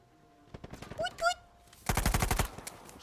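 Gunfire in the video game Uncharted 4: a few scattered shots and brief voice sounds, then a rapid automatic burst of about ten loud, evenly spaced shots.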